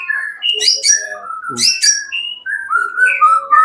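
A white-rumped shama, a murai batu kept as a competition songbird, sings close and loud in bright varied whistles and sharp chirps, phrase after phrase with short gaps.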